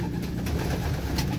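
A ringed racing pigeon gives a soft, low cooing call, close by and faint, with a brief murmuring rhythm.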